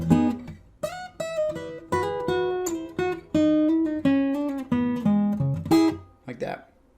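Fingerstyle riff on an acoustic guitar from a piece, a close, clear run of plucked notes and chords in a lilting rhythm, ending with a quick percussive scrape.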